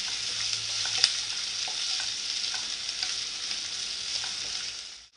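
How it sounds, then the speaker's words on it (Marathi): Ginger-garlic paste is stirred in a frying pan with onions for a spicy sev bhaji, giving a steady close sizzle with occasional faint scrapes of a spoon across the pan, with no talking. "आणि ह्याच्यामध्येच आपल्याला आलं लसूणची पेस्ट टाकून घ्यायची आहे व्यवस्थित मिक्स करून घ्यायचं आपल्याला"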